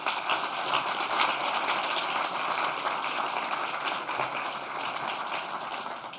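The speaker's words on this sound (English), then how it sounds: "And so an applause for them, please." Applause from an audience at a security conference talk, sustained broadband clapping at moderate volume that tapers slightly toward the end.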